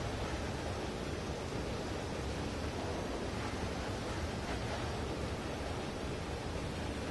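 Loud, steady rushing water in the video game Limbo, a dense unbroken roar that fills the whole stretch without pause.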